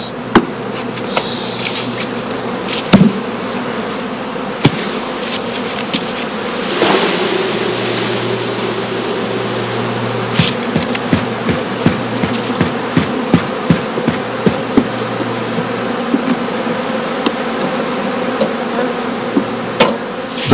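Buzzing of honeybee colonies packed into crates for sale, about 20,000 bees per colony, a dense steady drone with scattered sharp clicks and knocks throughout, no talking.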